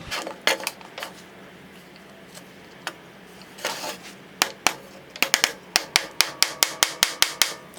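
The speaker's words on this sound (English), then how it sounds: "Then I grab myself my little hammer here and" A small hammer strikes metal while a water canteen is being shaped: scattered taps at first, then a quick, regular run of sharp, ringing blows close by, with no talk.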